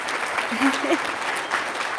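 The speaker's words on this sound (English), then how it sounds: "would you please join me in giving our panelists a round of applause?" An audience applauds the panelists after a tech workforce report panel discussion, a steady wash of clapping from a room, with a voice briefly heard over it.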